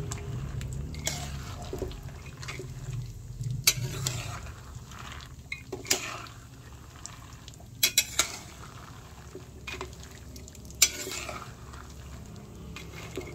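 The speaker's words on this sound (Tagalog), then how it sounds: "Ayan po, bali piniprito ko na po yung mani." Shelled peanuts frying in a pan, with a steady low sizzling bed broken by scattered scraping and clinking of a utensil against the pan, fairly quiet and close, with no voices.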